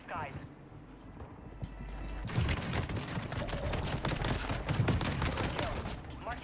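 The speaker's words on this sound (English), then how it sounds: "Somebody shot so many bullets." Rapid Warzone gunfire crackling in dense bursts after a quieter opening, loud and sustained for several seconds while a voice talks underneath.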